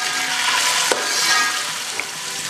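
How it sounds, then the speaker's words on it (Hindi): Two tablespoons of ginger garlic paste frying in hot oil make a dense, loud sizzle, with a sharp scrape of the spoon stirring near the start and a lighter tap later. "इसे भी भूनेंगे जब तक इसकी जो कच्ची स्मेल है वो ख़त्म ना हो जाए"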